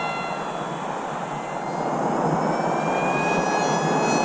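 An RMRC Strix Goblin radio-controlled plane's electric motor holds half throttle with a steady, loud whine and a rising high tone, continuous and close, without speech.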